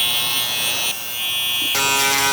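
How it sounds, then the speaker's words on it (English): An electric shaver buzzes steadily while cleaning up a high taper haircut, a loud close electric hum that shifts pitch partway through and rises again at the end, with no talk. "Get the shaver, shave that out."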